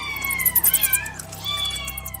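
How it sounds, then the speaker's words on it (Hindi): A cat meows a few times in quick succession as a sound effect for a children's story about a household cat, the calls close and clear over a soft steady background. "इस कहानी में एक बिल्ली मौसी भी है"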